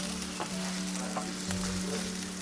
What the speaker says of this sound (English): making the pancit now. Garlic and onion.